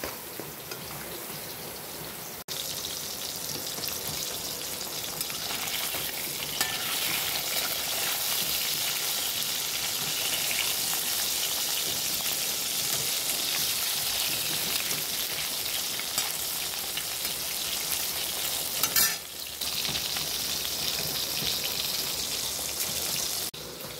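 Katla fish and ground dried keema fry in hot oil, a loud, continuous sizzle that holds steady for the whole stretch with only a couple of brief dips. No voices are heard.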